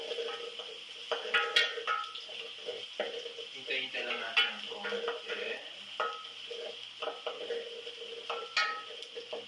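Garlic and onions sizzle and fry in a pan for pancit gisado, with intermittent stirring scrapes and clinks of a utensil against the pan, close and moderately loud, no talking.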